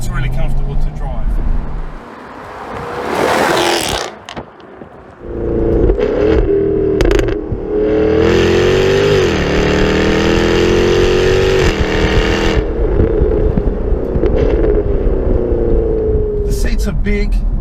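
The V8 engine of a Jaguar F-Type R rumbles and revs, with a strong, rising engine tone in the middle stretch, while a person talks over parts of it.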